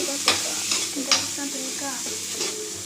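Tomatoes fry in a pan with a steady low sizzle, broken by several sharp scraping stirs of a utensil, close and alone with no talking.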